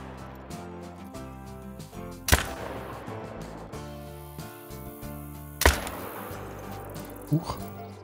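Hunting rifle in theHunter: Call of the Wild firing two loud, sharp shots a few seconds apart over a steady buzz of insects and outdoor ambience, followed by a fainter crack.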